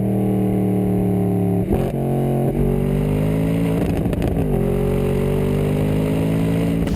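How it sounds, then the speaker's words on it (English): A Mercedes SLS engine rumbles loudly and steadily up close, with a couple of quick throttle blips and gear changes shifting its pitch. "the noise when you start this car up, the lower gears, it rumbles along"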